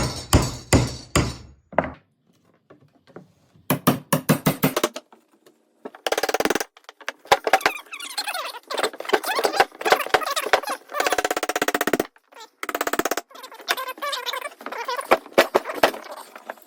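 A crowbar prying bark off a live edge wood slab, a series of scraping, cracking and knocking bursts with short pauses between them, close and fairly loud, no talk.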